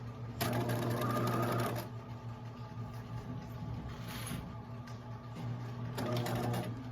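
A sewing machine runs in two loud bursts of steady stitching along a fabric seam for a romper, with a quieter, lower mechanical hum between the bursts.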